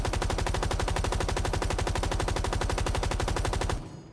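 LMG fitted with a compensator and vertical grip firing in Rainbow Six Siege X, a long unbroken burst of fast, evenly spaced shots that stops abruptly near the end.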